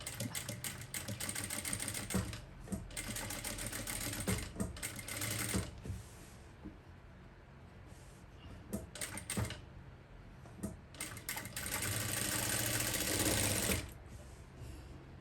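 A sewing machine stitches along needle markings on canvas in steady mechanical bursts, stopping and starting several times, loud and close with no talk.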